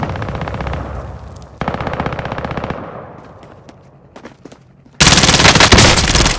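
Call of Duty: Modern Warfare gunfire: loud bursts of automatic fire with short pauses, a quieter stretch of scattered distant shots, then a sudden loud sustained barrage at the end.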